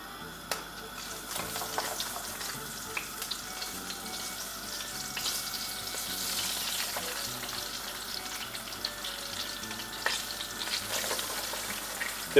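Meat and mushrooms frying in hot oil, a steady soft sizzle with scattered crackles and pops throughout, no voices.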